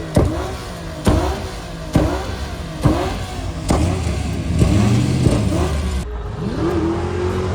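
Cars at a night pop-up car meet in the Bay Area: engines rev loudly again and again, with sharp backfire pops at each rev. The revs come about once a second at first, then build into a longer rising roar.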